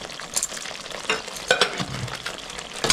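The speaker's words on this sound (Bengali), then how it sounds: "3 থেকে 4 মিনিট ভালো করে মশলাটা আমি কষাই নেব।" Spice paste fries and is stirred in a pan for a mustard and poppy seed fish jhal, with a soft steady sizzle broken by several sharp scraping strokes of a spoon.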